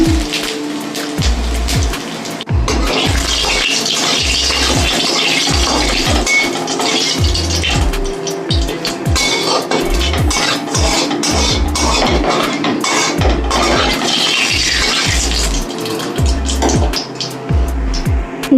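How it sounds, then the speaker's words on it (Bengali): Cumin seeds, dried chili and bay leaf sizzle and spatter in hot oil, a steady loud crackle with repeated metallic clinks of a utensil against the pan. "এই তেলের মধ্যেই আমি জিরে শুকনো লঙ্কা তেজপাতা ফোড়ন দিয়ে দিলাম"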